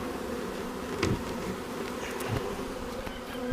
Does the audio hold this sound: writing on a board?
no